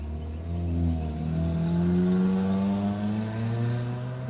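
A car engine revs steadily close by, its pitch climbing and holding for about four seconds with a continuous, fairly loud drone.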